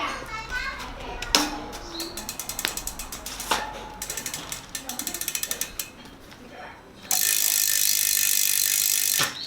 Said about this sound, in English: One other thing about the 20-inch rims, the sound from the hubs, very satisfying.